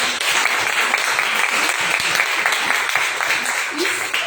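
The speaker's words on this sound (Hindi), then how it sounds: "यहाँ पर मैडम के लिए जोरदार ताली।" Audience applause at a live demonstration of a facial kit, a dense, steady clapping that fills the whole stretch at close range, with voices mixed in beneath it.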